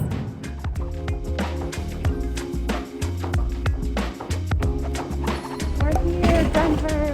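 Rhythmic hoof clip-clops from horses at an animal rescue farm, with repeated sharp taps over a busy, loud background that sounds like music, fairly close and continuous throughout.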